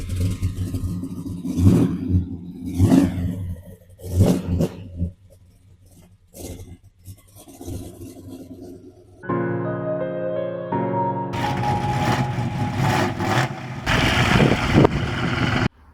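A 600-horsepower Cadillac drag car engine cranks with rattling bursts, then fires and settles into a loud, steady, rough idle with rising revs, close by and with no talking.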